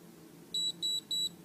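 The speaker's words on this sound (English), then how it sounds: "press the button so that hopefully you get the 3 beeps." Three short, high-pitched electronic beeps in quick, even succession from a body galvanic lymphatic drainage device, over a quiet background.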